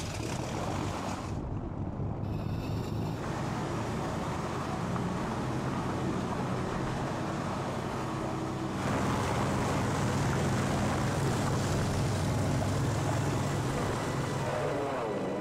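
Tomb Raider II airplane flight: a steady, loud, wind-like engine roar drones on throughout, dipping briefly early and swelling a little louder in the second half.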